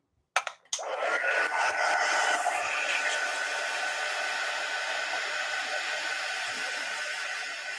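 A hair dryer dries masking fluid on a canvas. After a couple of clicks it switches on and blows in a steady, loud, close whoosh that holds for several seconds with no talking.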